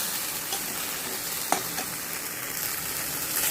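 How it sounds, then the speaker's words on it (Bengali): Potatoes sauté with cumin, ginger, tomato and spices in a pan for a fish curry, a soft continuous sizzle and hiss with a light stir clink midway. "মশলা দিয়ে ভালো করে কষিয়ে নেব"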